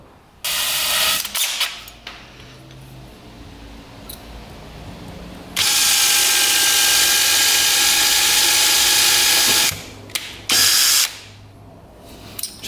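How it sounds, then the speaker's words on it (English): A power drill whines in bursts, drilling out a broken plastic screw on a 2-stroke dirt bike, with one long sustained run in the middle and shorter spurts around it, close by with clattering handling noise. "So we're gonna try to drill that out."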